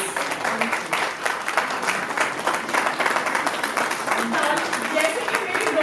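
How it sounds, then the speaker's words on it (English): A big round of applause at a women's awards ceremony as a guest of honor is recognized, dense clapping from a large audience sustained for several seconds, with a few voices faintly mixed in underneath. "Can I have a big round of applause, please?"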